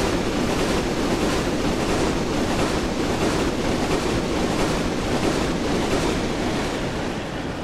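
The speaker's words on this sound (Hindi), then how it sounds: "अपनी यार दुरंतो एक्सप्रेस मुझे ओवरटेक तो करके चली गई" A Duronto Express train passes in Train Simulator on Indian Railways, a loud, unbroken roar of wheels and rushing air with a faint, regular clickety-clack rhythm running through it, close by and with no voices.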